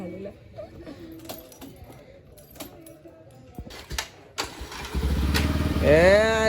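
After handling noises and jangling keys, a motorcycle engine starts up close by. It settles into a loud, steady running note that rises slightly toward the end.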